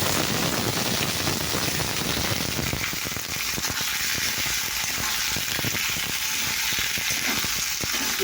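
Onions fry in a pan with a loud, continuous close sizzle and crackle, dense and steady throughout, with no voices.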